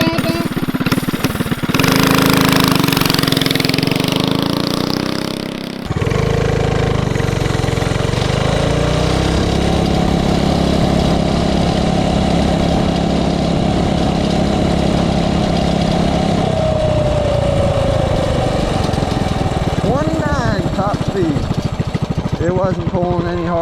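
A Lil Rascal mini bike with a governed Tillotson 212 engine, jetted and fitted with a new exhaust and air filter, roars loudly on a top-speed run. It briefly dips, then holds a steady buzzing drone that climbs in pitch toward the end.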